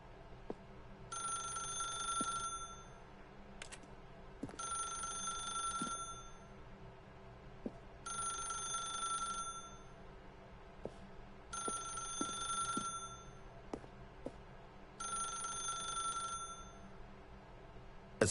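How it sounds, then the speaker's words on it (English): A telephone bell ringing in The Stanley Parable video game, five bursts of ringing evenly spaced with pauses between, moderately loud in a quiet room. "then pick up the phone."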